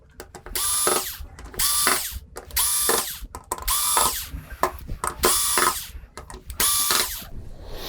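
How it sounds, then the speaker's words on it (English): A cordless power screwdriver backing screws out of the T-Con board of a VIZIO V605-G3 TV, six or so short whirring bursts with a rising whine, spaced about a second apart with brief clicks between. "So now we're going to get those screws out."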